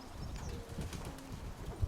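A pet dove, the keeper's favorite, gives soft, low cooing close by, faint murmuring calls with a light rustle and a brief thump near the end.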